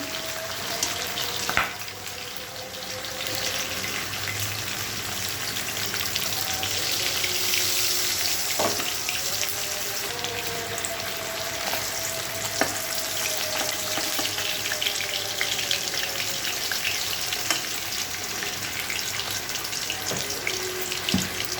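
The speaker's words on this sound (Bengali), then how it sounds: "আর যে কটা আছে সব ভেজে নিচ্ছি এভাবে" Hilsa fish pieces frying in hot oil, a steady, dense sizzle that continues close up and fairly loud, with occasional faint clinks and no talking.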